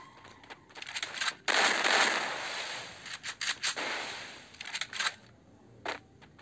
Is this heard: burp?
no